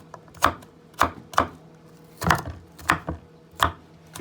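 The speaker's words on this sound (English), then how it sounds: "Let's go ahead and cut this up." A knife chops garlic on a cutting board in separate, close thuds, seven or so irregular strokes spaced about half a second apart, with no talk.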